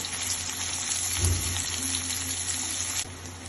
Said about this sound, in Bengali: বড় সাইজ 5টা পেঁয়াজ কুচি দিয়ে নরম করে আমি এটা ভেজে নিব।